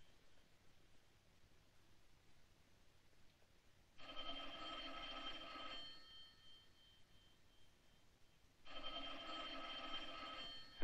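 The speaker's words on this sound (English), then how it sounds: "Answer the phone." An old 1940s telephone bell rings in two long, loud bursts about two seconds each, separated by a quiet pause over faint hiss.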